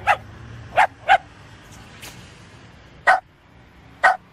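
A mangy old dog barks sharply and close by, with a quick burst of three barks, a softer yip, then two more single barks spaced about a second apart over a quiet background.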